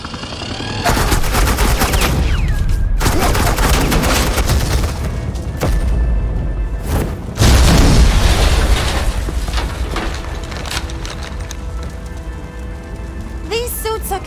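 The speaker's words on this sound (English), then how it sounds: "suppressing fire" Loud, dense bursts of automatic suppressing gunfire from Agent Quinn in the Batman: The Enemy Within game, crackling almost continuously with heavy booming impacts and brief lulls, in a thick, close battle mix.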